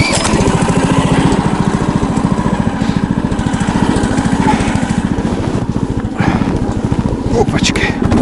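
Albatros XLV9 motorized snow pusher running through deep taiga snow, its small engine chugging loud and close in a steady rapid beat throughout, with brief rustling bumps near the end.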